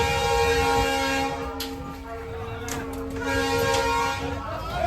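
A sustained train horn sounds steadily through the whole stretch over a rumbling background, with people talking nearby.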